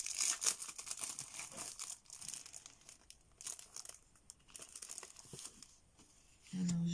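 A small piece of card is handled with crinkling and rustling sounds, close up, broken into short bursts across the clip, with a louder low hum entering at the end.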